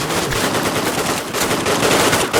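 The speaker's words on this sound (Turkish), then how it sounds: "Bak yine teyze vuruyor." Rapid automatic gunfire in the online shooter Redmatch 2, a loud continuous burst of closely spaced shots filling the whole moment with no pauses.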